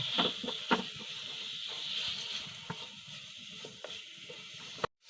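Chopped tomatoes being stirred with shrimp in a hot pan for a Bengali shrimp curry, a steady soft sizzle with occasional scraping clicks of a utensil, ending abruptly.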